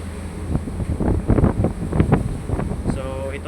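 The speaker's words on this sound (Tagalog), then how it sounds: "So pag lumabas ka, mararamdaman mo talaga yung lakas ng hangin." Strong typhoon wind during Typhoon Tino, a loud, continuous buffeting roar with gusty surges and rumbling microphone wind noise, no talking.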